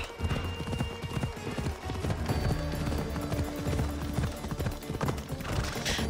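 Fast, steady clip-clop of a horse galloping in Assassin's Creed Odyssey, loud and close, mixed with game sound effects and a brief whinny-like tone.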